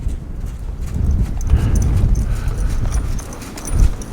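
Ridden horse hooves clip-clopping steadily on the ground during a training session with a belligerent horse, close and moderately loud, with faint ambient outdoor noise.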